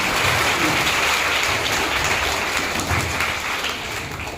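Applause from the audience at a town high school retirement felicitation ceremony for two staff members, a steady dense wash of clapping that holds evenly throughout before easing slightly at the end.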